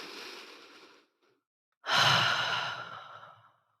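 A long, slow, deep inhalation drawn in close and clearly, a quieter breath before it and a short pause between, with no talking.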